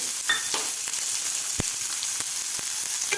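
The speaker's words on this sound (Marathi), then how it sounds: "आपल्याला हा कांदा भाजून घ्यायचा आहे" Thickly sliced onion sizzles in a little oil in a pan for Kolhapuri misal, a bright continuous crackle with occasional sharp taps and stirring scrapes.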